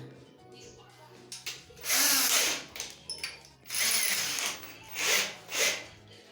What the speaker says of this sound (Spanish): vamos entonces a usar ahora otra broca más grande que esta